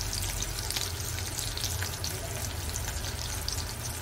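Curry leaves hit hot oil in a pan, producing a dense, loud, crackling sizzle that stays close and constant for a few seconds, with no one speaking.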